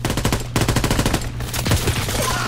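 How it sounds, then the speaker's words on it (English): Rapid, loud machine-gun fire from an aerial strafing run in the World War II shooter game Call of Duty: WWII, bursts rattling continuously with only a brief gap. "Enemy strafing run inbound."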